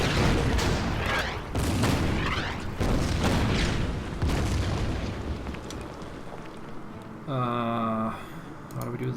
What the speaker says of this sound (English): Artillery. Start firing on the infantry.